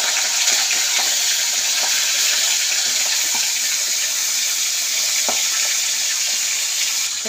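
Salted, turmeric-rubbed fish head frying in hot oil gives a steady, dense crackle and hiss that runs unbroken throughout, close and fairly loud, with a few faint clinks.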